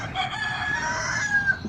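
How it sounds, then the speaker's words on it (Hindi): A rooster crows in the early morning in a Pahadi hill village after rain, one long drawn-out crow rising and holding at a moderate distance over faint background noise. "ये लोग उनका मुर्गा बास रहा है सुबह सुबह।"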